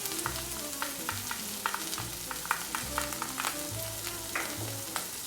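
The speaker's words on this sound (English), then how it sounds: "And I'm just going to saute that quickly for about 2 to 3 minutes until it becomes fragrant." Chopped coriander root sautés in a pan for a mussel and black bean dish, giving a soft, steady close sizzle with light crackles and intermittent scraping of a spatula stirring through it.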